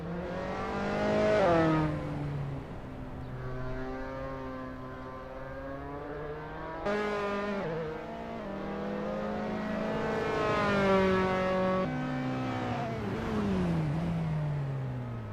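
Dallara F317 race cars warm up at Tor Poznań in Assetto Corsa. Several engines rev and whine loudly, their pitch sweeping up and down in repeated surges, with no talk.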